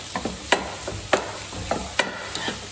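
Beef mince being cooked in a pan for lasagne, a steady sizzle punctuated by repeated scraping stirs at irregular intervals, close and clear with no talking.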